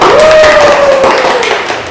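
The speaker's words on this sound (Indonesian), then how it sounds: "Tepuk tangan dulu." Loud, dense clapping from a class fills the classroom, steady then tapering slightly, with a faint tone and voices mixed in.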